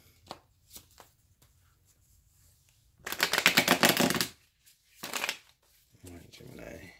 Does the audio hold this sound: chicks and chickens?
no